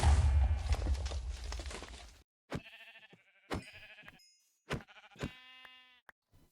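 Sheep bleating in the video game Gregtech: New Horizons, several separate bleats in a row, close and clear, after a burst of louder game noise at the start.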